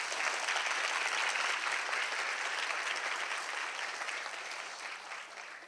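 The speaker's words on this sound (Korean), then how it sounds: "다시 한번 황 회장님께 큰 박수 부탁드리겠습니다" Audience applause after a special lecture by former KT chairman Hwang Chang-gyu at Korea University's engineering college 60th anniversary, a dense, steady clapping from a large hall crowd that holds loud and slowly fades toward the end.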